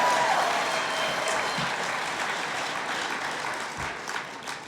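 Audience applause fills a hall at an evening event, a broad steady wash of many hands clapping that slowly thins toward the end.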